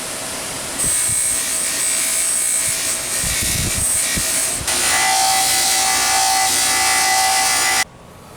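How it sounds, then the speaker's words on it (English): An old oiler can is held against a spinning wire wheel, fiber wheel and buffing wheel, giving a loud steady whirring grind that shifts to a brighter, harsher pitch partway through before cutting off, with no talking. "let's take this over to the wire wheel, the fiber wheel, and then the buffing wheel"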